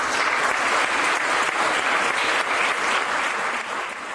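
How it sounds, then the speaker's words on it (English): Loud, dense applause from an audience at an art exhibition opening celebration, steady continuous clapping for about four seconds before easing slightly at the end. "we would like to give them a round of applause"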